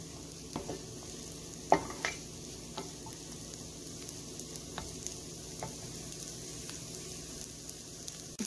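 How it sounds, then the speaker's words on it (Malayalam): Wheat rava roasts in butter in a pan for upma, a faint soft sizzle with scattered scraping clicks as it is stirred now and then. "എന്നാലും ഈ ബട്ടറിൽ കിടന്ന് ഒന്ന് മൂത്ത് വരട്ടെ."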